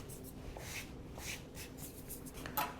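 Crusty homemade olive bread, a no-knead loaf baked in a Dutch oven and still warm, being cut with a knife: soft, repeated scratchy sawing and crackling crust strokes, close and fairly quiet, with no talking.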